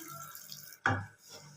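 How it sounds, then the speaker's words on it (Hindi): Half a cup of water poured onto desi jaggery (gur) in a pan, a short close splash of liquid landing in one burst, then fading to quiet. "अब हम इसके अंदर आधी प्याली के करीब पानी ऐड"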